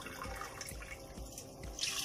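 Water is poured into a cooking pot for jeera rice, a steady pouring and splashing stream lasting about two seconds at close range with no speech.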